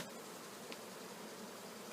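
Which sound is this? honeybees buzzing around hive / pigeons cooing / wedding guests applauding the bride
honeybees buzzing around hive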